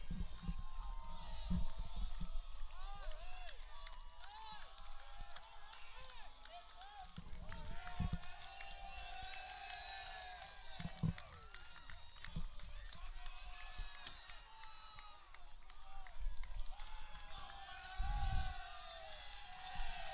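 A home crowd cheers at a Connecticut College NCAA first-round match on their home field after a goal, with whoops and shouts rising in bursts from a distance while a commentator talks over it.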